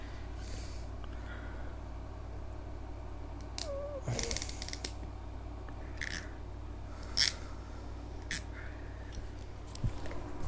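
A networking wire being cut during a home network cleanup, heard as one sharp close snip followed by a few small clicks over a quiet, steady background hum, with no talking.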